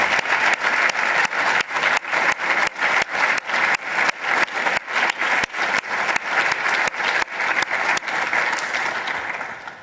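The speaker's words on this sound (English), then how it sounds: "Wonder if we could all give a round of applause for that Slatopolsky family." An audience at an academic installation ceremony applauds a family, a loud, dense and steady round of clapping with a regular pulsing rhythm that holds for about ten seconds before tapering slightly at the end.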